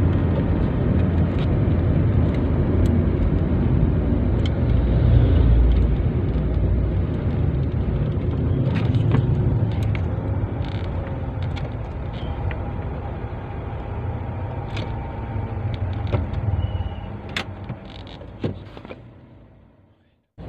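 A manual-transmission car braking gently and smoothly to a halt, its steady road and engine rumble fading gradually to near silence at the end, heard from inside the cabin.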